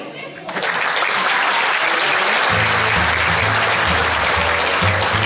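A crowd bursts into loud, sustained applause after a sung performance, the clapping swelling in within the first half-second and continuing steadily while a voice talks over it.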